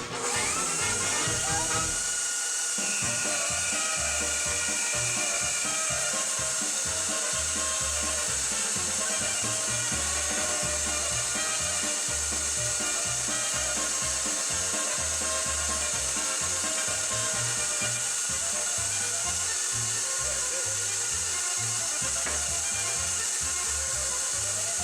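A meat grinder grinding meat for fresh Polish kielbasa, a loud, steady motor whine with a high constant hum and a rhythmic low churning thump throughout, briefly dipping near the start.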